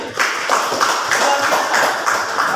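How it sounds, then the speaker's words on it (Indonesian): A classroom group claps for a team of students, a steady, fairly loud patter of many hands with slight rhythmic swells, alone and without talk. "tepuk tangan untuk kelompoknya Alvin"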